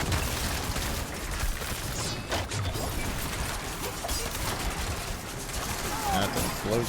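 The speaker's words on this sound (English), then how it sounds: "That's an explosion right there." Explosion effect from a meteor blast in the action RPG Diablo IV, a dense, rumbling burst of booms and crackles layered with other game sound effects, loud and continuous throughout.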